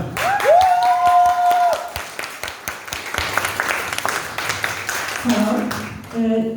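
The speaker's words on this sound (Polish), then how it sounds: "witamy Marię Dowińską, brawa." An audience claps steadily at the opening of a gallery exhibition in Białystok, the applause fairly close and sustained, with a brief tonal sound at the start and some voices near the end.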